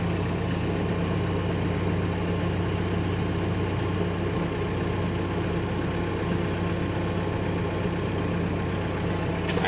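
A farm tractor's engine runs at a steady, moderate idle while maneuvering around another tractor and tedder, a continuous low rumble with no talk over it.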